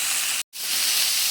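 Ridge gourd and potato pieces sizzle in a pan of fried onion and chilli, a loud steady hiss that cuts out for a moment and then resumes.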